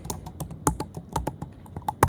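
A password is typed on a computer keyboard: a quick, close, fairly loud run of sharp key clicks in an uneven rhythm.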